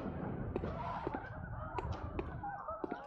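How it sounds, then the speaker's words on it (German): Ravens in the video game Bloodborne give harsh, hoarse calls, repeated several times at irregular intervals over a dense, rumbling in-game ambience. "Da sind diese bescheuerten Raben."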